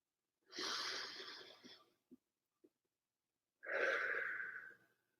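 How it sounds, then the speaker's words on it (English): A slow, deep breath during a calming tapping exercise: a long airy inhale, a pause with a couple of soft clicks, then a long breathy exhale, close and fairly quiet. "I want you to take a deep breath"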